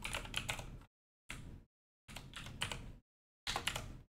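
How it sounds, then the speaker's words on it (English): Fast, light clatter of a computer keyboard comes in four short bursts of typing, separated by brief silences, close and fairly quiet. "we're gonna type the word pass through"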